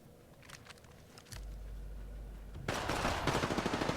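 Rapid gunfire in the Apex Legends video game, a few scattered shots giving way to a dense, loud automatic burst that keeps rattling to the end, with no talk.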